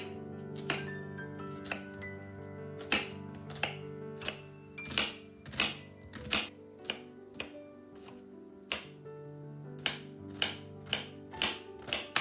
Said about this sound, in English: Cut the onion into small pieces.